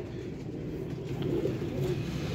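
A Sialkoti Jaunsra pigeon coos softly in a low, rumbling murmur that continues steadily through the moment, close by but quiet, with no talking.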